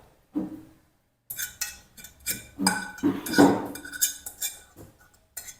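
Maggi noodles being served into a dish, with a utensil clinking and scraping against the cookware in short separate bursts, close up, after a brief quiet start.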